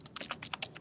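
Quick burst of typing on a computer keyboard, about seven or eight light key clicks in under a second, close and faint with no voices.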